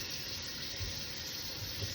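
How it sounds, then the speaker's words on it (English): Tap water runs steadily into a sink in a kitchen, a constant even hiss and splash that stays at the same level throughout, with no one talking. "turn this water off."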